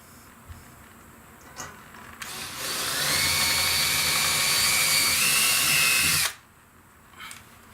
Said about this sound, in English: So I just did a pre-drill on the other end of the plate